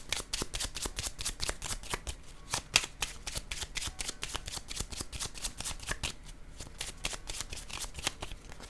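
Tarot cards are shuffled close up in a rapid, even stream of crisp riffling flicks lasting the whole stretch, with no talking.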